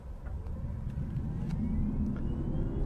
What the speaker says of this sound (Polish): Za chwileczkę zobaczymy, jak sprawnie rozpędza się ten pojazd.